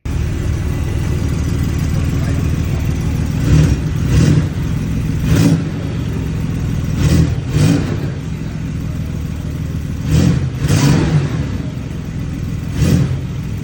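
A 2025 Porsche 911 with 532 horsepower holds a steady, loud engine drone, broken by repeated short revving surges every second or two.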